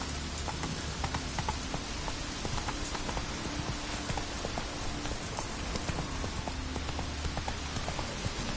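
A horse gallops in the Witcher 3 video game with a steady, dense patter of hooves over a rain-like hiss throughout, fairly loud and with no talking.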